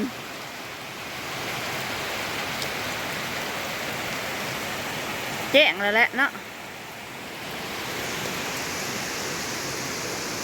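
Heavy rain pours down in a steady, broad hiss, with a brief burst of nearby speech in the middle.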